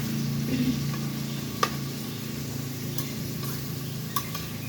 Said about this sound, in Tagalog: Haluin mo lang siya.